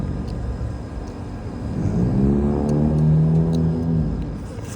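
A group of cars pulls up in a line, one engine swelling into a loud revving rumble that builds and then holds steady, close by, as if racing.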